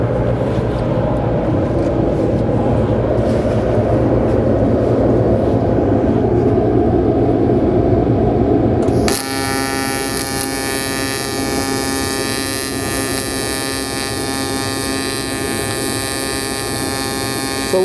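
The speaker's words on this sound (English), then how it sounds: "I'm gonna be welding overhead on the bottom of this pipe." MIG welding runs overhead on the bottom of a pipe with wire fed at 200 inches per minute in a pipe-fabrication mode, a loud, continuous buzzing arc whose tone shifts sharply partway through, with no speech.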